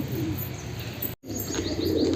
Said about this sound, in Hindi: तो वो फैंसी कबूतर जाके उसको उठाने की कोशिश कर रहा है, पर वो उठ नहीं रही।